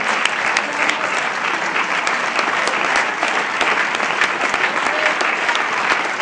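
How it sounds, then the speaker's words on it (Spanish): A church congregation gives a sustained round of applause during a sermon, steady and fairly loud dense clapping with a few sharper individual claps standing out throughout. "Denle un aplauso, hermano"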